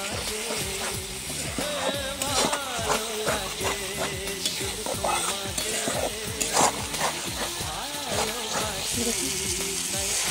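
Spice paste of ground coriander and cumin frying in oil in a pan, a steady close sizzle broken by repeated stirring scrapes at an uneven rhythm, with no voices.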